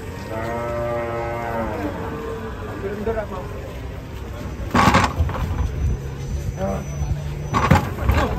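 A cow moos loudly nearby in a long drawn-out call, followed by a quieter low moo amid background noise.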